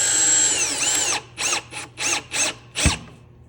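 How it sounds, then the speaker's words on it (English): Cordless drill at slow speed driving 1 1/4 inch square drive screws, toenailed into a wooden side chair: a continuous whine followed by four or five short, loud bursts of drilling. "go ahead and drive our 1 1/4 screws"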